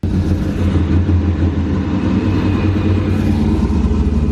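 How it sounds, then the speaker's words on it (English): A modified wide-body Corvette Z06 rumbles close by, its engine holding a deep, steady, loud idle with a throbbing low growl that stays even throughout, with no talking. "It's kind of weird hearing your own car stood up next to you"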